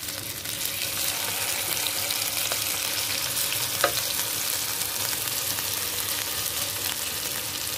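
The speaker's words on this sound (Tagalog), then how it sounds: "Nagluto tayo ng steak" Burger steak patties sizzle and fry in a wok, a steady dense crackle throughout with a brief faint clink midway.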